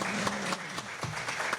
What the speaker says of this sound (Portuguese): Aplausos para o Espírito Santo.